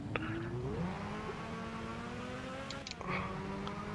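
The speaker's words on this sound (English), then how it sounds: "the sound, the engine note is much more aggressive with the V12" A V12 engine from a Jaguar XJ220 all-wheel-drive concept build in Gran Turismo 5 revs with a steadily rising, aggressive note, briefly easing off before climbing again after a gear change, loud and continuous.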